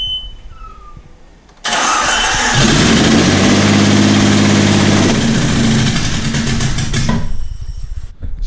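A Jeep that sat unused for two years cranks and catches, then its engine roars loudly and settles into a steady idle for several seconds before cutting off.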